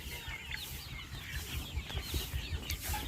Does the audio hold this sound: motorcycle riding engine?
no